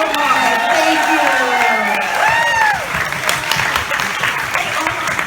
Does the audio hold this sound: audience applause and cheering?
yes